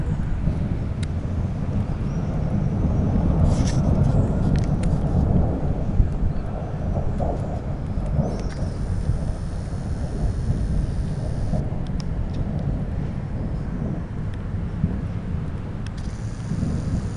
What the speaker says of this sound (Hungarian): Megint láthattunk egy villámlást, és becsukom az ablakot. Mert jön a vihar!